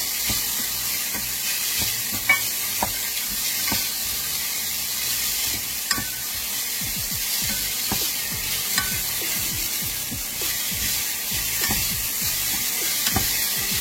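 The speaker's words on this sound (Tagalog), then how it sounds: "Igigisa lang natin yung sibuyas dito." Onion sautéing in a pan gives a steady loud sizzle with frequent stirring scrapes and clicks throughout, no voices.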